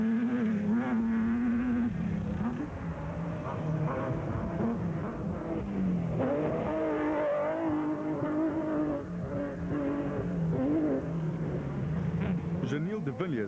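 A Nissan Hardbody rally truck's engine drones and revs continuously at an off-road race, heard steadily at moderate distance beneath a commentator's voice.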